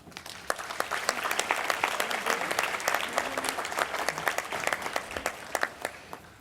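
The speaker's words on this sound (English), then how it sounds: "We applaud you." Applause from the crowd at an architecture conference gala, a dense, even wash of clapping that builds and holds, with a few sharper individual claps standing out near the end.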